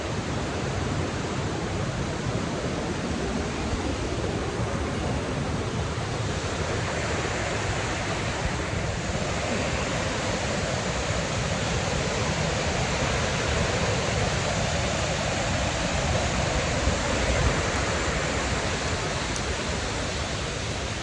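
Steady, broad rushing of fast-moving river white water fills the clip, a constant loud roar with no pauses and no voices.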